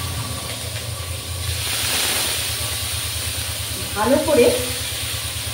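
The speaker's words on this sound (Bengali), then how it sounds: "কালো জিরের সঙ্গে আমি রসুন আর পেঁয়াজটা ভালো করে কষে নিই" Garlic and onion paste with nigella seeds frying in oil, giving a steady close sizzle and hiss with a brief louder stirring burst near the end, while a voice talks over it.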